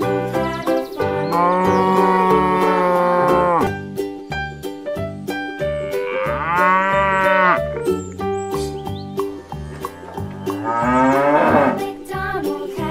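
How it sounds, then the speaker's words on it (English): A cow moos several times in long, drawn-out calls, loud and close, over a bouncy children's farm song with a steady beat and singing voices. "And on his farm he had a cow"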